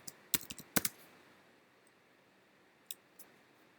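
A few quick keystrokes on a computer keyboard while typing a shell command, a short cluster of close clicks, then silence and two faint taps, with no talk.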